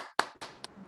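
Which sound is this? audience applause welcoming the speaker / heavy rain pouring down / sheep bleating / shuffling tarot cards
audience applause welcoming the speaker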